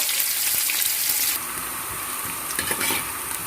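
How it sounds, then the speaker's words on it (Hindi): Onions sizzle and fry in hot ghee inside a pressure cooker on the flame, a steady bright crackle with occasional stirring scrapes, close and continuous throughout. "आप प्याज डाल देंगे सबसे पहले और इनको अच्छी तरह से भून लेंगे।"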